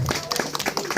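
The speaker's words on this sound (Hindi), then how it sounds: "थोड़ा तालियां बजाइए आप लोग" An audience at a Delhi gathering of civil defence volunteers claps to welcome a guest. The claps are loose and scattered and come at a brisk, uneven pace, with voices underneath.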